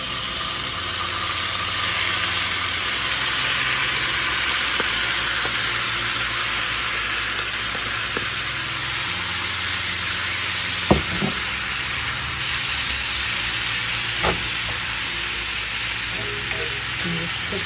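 Steady sizzling of chicken fajita mix frying in a hot cast iron skillet, a continuous bright hiss with a low rumbling hum beneath and a couple of sharp clinks.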